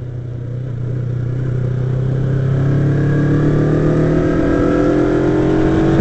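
A motorcycle engine pulls up a hill on a riverside ride, a loud, close drone rising gradually in pitch and strength with no voices.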